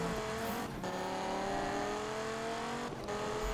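A Dodge Viper with nitro in the Need for Speed racing game, a sustained engine drone whose pitch slowly climbs, broken by two brief dips, loud and steady with no speech.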